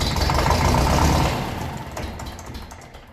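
A 1954 Ferguson TEF 20 diesel tractor engine turns over and strains to catch, loud and close at first, then fades over about three seconds, with no voices.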